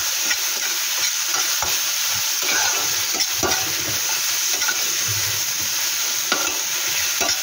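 Onion frying with freshly added tomato, garlic and green chili, a loud continuous sizzle close by, broken by the clatter and scrape of stirring, with no talk.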